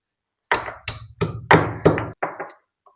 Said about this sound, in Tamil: இப்போ இடிக்கல்ல வெள்ளைப்பூடு, கொஞ்சமாக சீரகம், கொஞ்சமாக கருவேப்பிலை போட்டிருக்கேங்க.